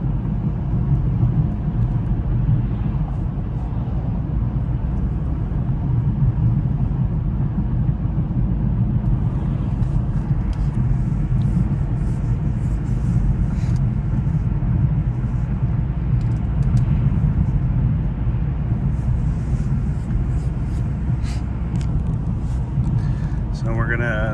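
A 2006 Dodge Stratus SXT with 73,000 miles drives through city streets, with a steady low rumble of engine and road noise inside the cabin while a voice talks over it.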